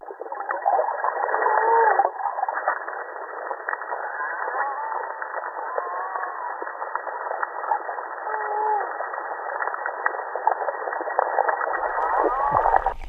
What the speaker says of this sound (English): Do you hear the whales calling?